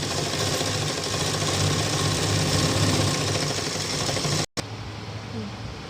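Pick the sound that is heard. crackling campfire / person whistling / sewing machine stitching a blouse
sewing machine stitching a blouse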